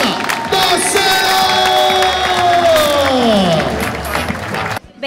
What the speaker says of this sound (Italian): su gli applausi, Sara Dossena!